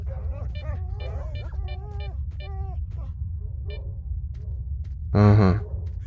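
A dog in STALKER: Shadow of Chernobyl gives a string of high, whining yelps and whimpers, then one loud, close bark near the end.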